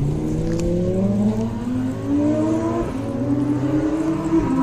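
A Ferrari Portofino cabriolet with a 600 hp 3.9-litre twin-turbo V8 revs loudly and close by, its engine note climbing repeatedly in pitch over several seconds.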